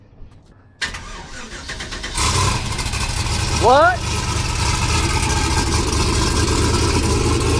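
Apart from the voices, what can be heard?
car engine running with homemade muffler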